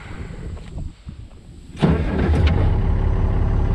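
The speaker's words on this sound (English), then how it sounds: "Well, the starter still works, the engine still runs" An IH 1086 tractor engine with a missing front wheel cranks briefly with the starter, then catches and settles into a loud, steady diesel run close by, no talk.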